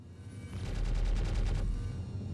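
Turret guns on a Drake Corsair ship in the game Star Citizen fire a steady rapid burst lasting about a second, set over a constant deep engine rumble.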